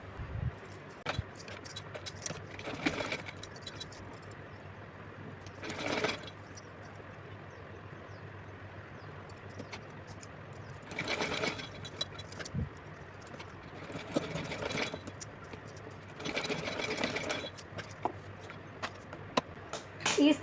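A sewing machine stitches the waistband of a small doll dress for a Kanha ji idol, running in several short, rattling bursts separated by quieter pauses, with faint room noise throughout.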